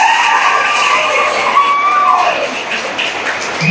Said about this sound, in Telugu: గట్టిగా చప్పట్లు కొట్టుకోవాల్సిందిగా కోరుతా